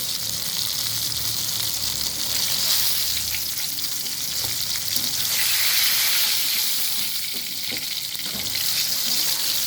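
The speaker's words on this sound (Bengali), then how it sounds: "তেল গরম হয়ে গিয়েছে এখন বেগুন ভেজে নেব" Eggplant frying in hot oil, a loud, continuous close crackle and hiss that swells and eases, with faint clinks of stirring and no voices.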